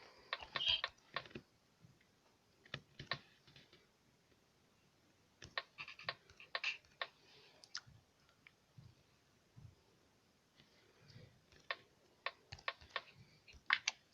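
Keys tapped on a computer keyboard while a game code is entered, quiet clusters of clicks in short bursts separated by pauses, close and alone with no talking.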